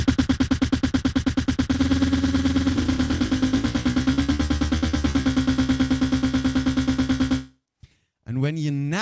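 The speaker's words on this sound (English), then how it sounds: "This effect with a granular delay sounds like this." Electronic music processed through a granular delay effect, a dense, rapidly pulsing stuttering texture with a steady droning tone, running loud for several seconds before cutting out, followed by a brief warbling burst.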